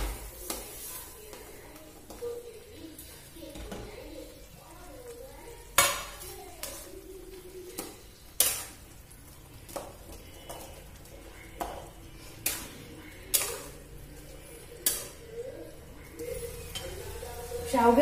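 Ragi vermicelli going into a pan and being stirred for upma: a spatula scrapes and clinks against the pan about once every second or so over a soft, low sizzle, with faint background noise between strokes.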